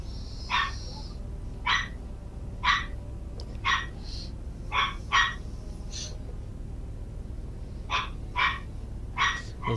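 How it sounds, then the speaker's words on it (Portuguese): Norscan war dogs bark repeatedly in Total War: Warhammer II, a fantasy strategy game, with about a dozen sharp barks in uneven clusters over a quiet low rumble and no talking. "Olha os cães norscanos aí, ainda vivos."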